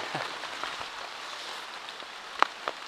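Steady rain falls in a forest during a storm, a soft, even hiss with scattered drop ticks and one sharper tap near the end, fairly faint and without voices.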